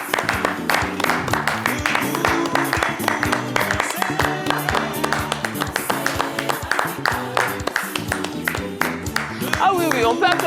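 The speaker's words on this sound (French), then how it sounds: "On va les recevoir sous de nombreux applaudissements." A crowd at a ceremony honoring the Africa Sports club welcomes its president, coach and captain with sustained, rhythmic clapping that runs throughout, mixed with music and a voice speaking over it.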